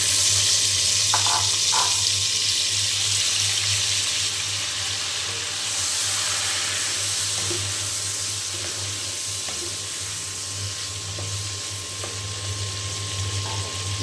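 Pointed gourd (potol) pieces fry in hot oil, giving a steady, close hissing sizzle that holds throughout, with a few faint clinks of stirring near the start.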